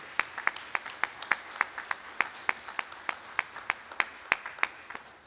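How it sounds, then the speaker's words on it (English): A church congregation claps to welcome a new member during a contemporary worship service: sharp, evenly spaced claps in a steady rhythm, fairly close and moderately loud, with no talk over them. "Would you welcome her into the family of our Father with a round of applause?"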